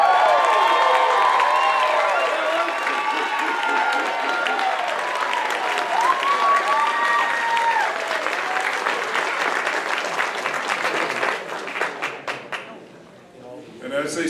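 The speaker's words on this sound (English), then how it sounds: "I think they deserve another round of applause." Sustained applause from a large crowd at a Palmer College of Chiropractic graduation ceremony rolls on for over ten seconds with cheers and whoops on top, then thins to scattered claps near the end.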